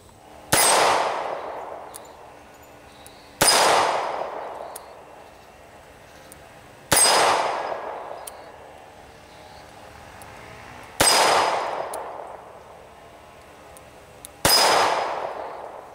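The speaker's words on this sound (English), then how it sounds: "it's going to take me just a second in between shots to wait for the plate to slow" Snub nose revolver shots each ring out with a loud metallic clang off a swinging steel target plate. Five hits fall a few seconds apart, and every ringing tone fades out before the next shot.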